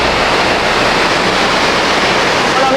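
Loud, dense roar of rushing water pouring through the Canaima hydroelectric water intake, a constant broadband wash with no breaks and close up.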